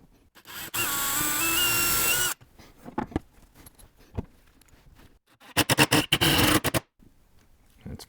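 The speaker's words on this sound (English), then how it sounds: "I'm going to pre-drill these because the screws I'm using really won't go through the sheet metal very well" Power drill boring holes in sheet metal, a loud whining burst with pitch shifts, then clicks and handling noises, followed by a second shorter drilling burst.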